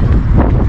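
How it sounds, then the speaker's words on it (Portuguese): Cold wind buffets the microphone outdoors, a loud, close, low rumbling gust that stays continuous through the short moment. "Mas tá tendo um vento frio, frio."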